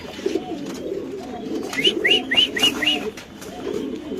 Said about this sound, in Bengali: আমি ডাকটা আমি আপনাকে দেখাচ্ছি। ইনশাআল্লাহ দর্শক দেখেন আপনারা, কি জাতের কবুতর এটা?